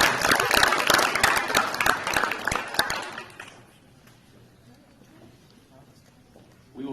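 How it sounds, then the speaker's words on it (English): At a high school signing day ceremony, an audience claps in a dense, loud round of applause that tapers off after about three seconds into quiet room tone. "Let's give her one more round of applause."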